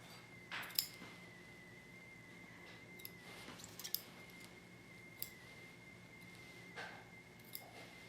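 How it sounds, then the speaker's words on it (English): Scissors snip along the edge of chasuble fabric in a handful of faint, sparse cuts with quiet pauses between them, close but soft against a low room hum. "I'm going to trim this edge up a little bit here"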